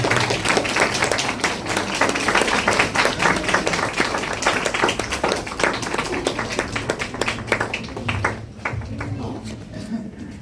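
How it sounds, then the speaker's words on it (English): Conference attendees in a hall applaud while standing, loud, sustained clapping with distinct individual claps. The applause thins toward the end as some voices come through. "Please give a round of applause."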